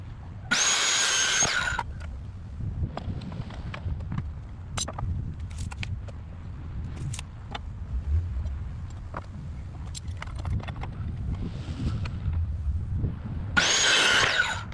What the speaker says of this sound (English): let's cut up a whole bunch of these bed slats.